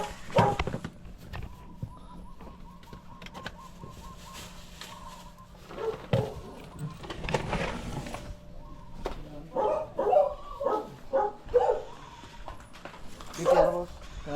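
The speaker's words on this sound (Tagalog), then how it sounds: "Nakawala lahat ng aso nila mga Kanoypi." Several loose dogs bark in short, irregular bursts at close to medium range, with a steady background hum and people talking in between.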